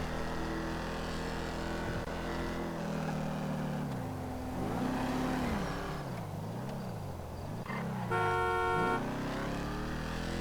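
Car horn honks over a revving performance car engine in GTA Online, the engine pitch rising and falling through gear shifts before a loud, steady horn blast near the end.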